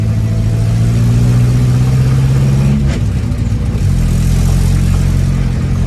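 A classic Mini's small engine, rated at 37 horsepower, drones loudly and steadily from inside the car while driving, with a brief change in pitch near the middle as the revs drop and then pick up again.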